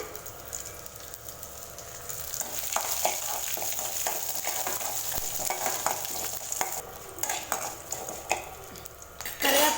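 Green chillies and curry leaves sautéing in hot oil for a chow chow poriyal, an even close sizzle broken by repeated spatula stirs and metal scrapes against the pan, with no talking.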